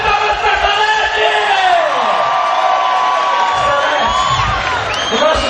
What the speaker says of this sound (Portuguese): Uma salva de palmas para Salete!